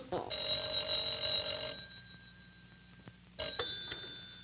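A telephone rings in a 1950s radio drama, giving one long bright electric ring, a quiet pause and then the start of a second ring, heard close and alone.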